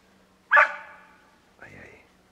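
A puppy hidden in brambles outdoors gives a sharp, loud bark and then, about a second later, a shorter, weaker yelp.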